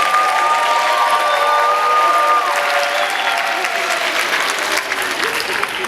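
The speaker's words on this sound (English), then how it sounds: "big round of applause to our students here" A large audience applauds and cheers students at the 2017 Brooklyn Borough Arts Festival, a dense, loud, sustained wash of clapping with a few whistles and shouts mixed in, tapering slightly toward the end.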